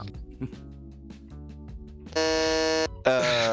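A red quiz show buzzer sounds a loud, steady electronic tone for under a second, briefly cuts out, then blares again, following some quiet voices and clatter at a game show event.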